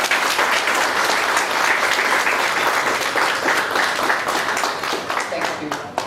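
Loud, full applause from a seated audience at a technical income tax seminar session, dense and continuous clapping with faint voices underneath, easing slightly at the end.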